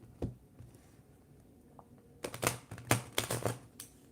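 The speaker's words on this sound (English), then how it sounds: "Let me shuffle these real quick." A deck of angel number cards is shuffled, giving quick papery riffles and clicks in short bursts, fairly close and alone, quiet at first and then busier.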